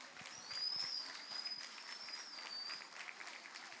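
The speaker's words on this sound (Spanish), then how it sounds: "le damos un fuerte aplauso a las chicas" Applause for mothers receiving gifts at a Mujeres Valientes celebration, a soft, fairly distant crowd clapping that continues steadily, with faint background voices.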